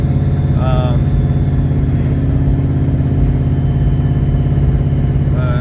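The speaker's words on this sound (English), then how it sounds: "we're heading over there and it's very loud in the car" A loud, steady engine drone fills the cabin from inside a moving 1981 Pontiac Turbo Trans Am, a constant low rumble with no pauses.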